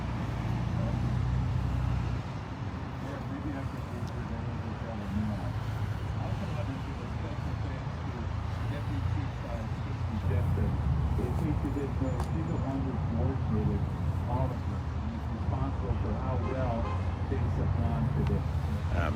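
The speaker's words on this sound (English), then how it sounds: "You're not going to be able to hear it because there's too much traffic." Busy road traffic rolls past continuously, with cars, buses and trucks rumbling and hissing by at a memorial gathering for a Eugene police officer. The roar is loud and steady with occasional heavier vehicle passes.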